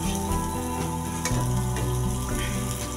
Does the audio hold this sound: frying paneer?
yes